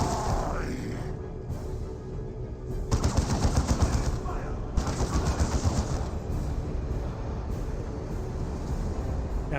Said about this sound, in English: Voldemort Razorback getting some shots down the Heretics